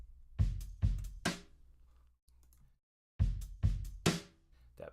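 Percussion hits in a 7/8 music track, with shaker and hat parts playing together: loud, close strikes in two bursts of three or four, a short near-silent gap between them, and a faint hiss between the bursts.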